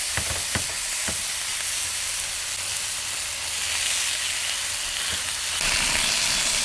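Bacon sizzles steadily in a hot pan for a breakfast of bacon and eggs, a dense continuous crackle and hiss, with a few sharp pops near the start and a louder surge at the end.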